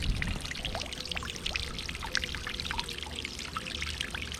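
Replacement pool aerator nozzle spraying aerated water that splashes and burbles steadily into a pool, close and loud, continuous with no talking.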